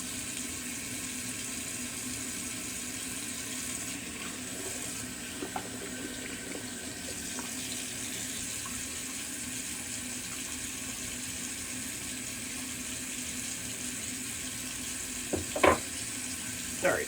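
A bathroom tap runs steadily as a face is rinsed off after a wet shave, a continuous close hiss of flowing water with faint splashes and a couple of knocks near the end.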